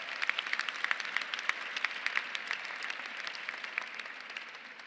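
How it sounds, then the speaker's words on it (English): An audience at an awards breakfast honoring women in transportation breaks into dense, sustained applause, many hands clapping together in a full wash that eases slightly toward the end. "That's a round of applause."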